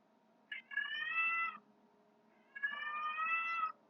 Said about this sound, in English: My cat's just making noises again.